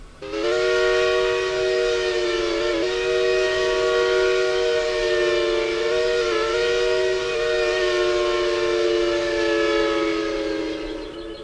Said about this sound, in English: We're going to start with the Princeton 3 chime from the Southern Railway, very famous on the 4501.